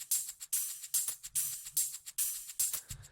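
Quiet electronic hi-hat samples tick in a steady, evenly spaced pattern, bright and crisp, with a faint low thump near the end.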